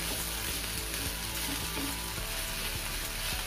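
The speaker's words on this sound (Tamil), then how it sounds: "அதனால் சும்மா லேசாக தான் நம்ம இதை ஃப்ரை பண்ணணும்." Gotu kola (vallarai) leaves being lightly fried in a pan, giving a steady, close sizzle and crackle with occasional stirring scrapes throughout, no voices present.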